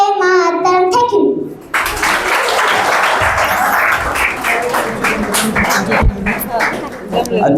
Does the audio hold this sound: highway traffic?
no